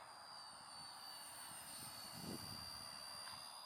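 An RC scale Airbus EC-145 model helicopter makes a flat-out fast pass, its steady high-pitched rotor and motor whine holding level throughout, with a slight swell midway as it passes closest.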